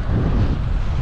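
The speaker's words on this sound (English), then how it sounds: "It's very windy." Strong wind on an island buffets the microphone in a steady low roar with no pauses, filling the whole moment.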